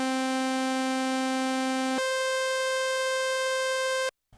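A buzzy, harmonic-rich synth tone in mono legato mode holds one note, then jumps abruptly up to a higher pitch with only the new note sounding, and cuts off cleanly; steady, loud, no voices.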